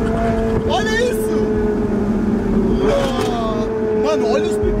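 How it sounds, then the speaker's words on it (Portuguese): A Ferrari sports car engine drones loudly and steadily, rising briefly in pitch as it revs, while excited voices shout over it. "olha os pipocos que dá esse carro"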